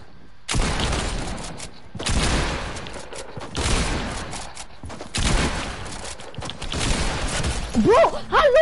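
Bursts of video game gunfire in a rooftop firefight, four or five loud rapid volleys separated by short pauses, with a brief electronic chirp near the end.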